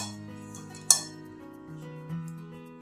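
A utensil stirring a dry, spicy mixed-vegetable filling for patishapta pitha in a pan over low to medium gas flame, with one sharp clink of metal on the pan over a faint steady background hum.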